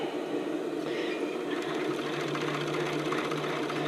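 An overlock serger sewing garment seams on a lace-up tank top, a continuous fast buzzing hum with a rapid rhythmic stitching chatter, close and loud with no talk.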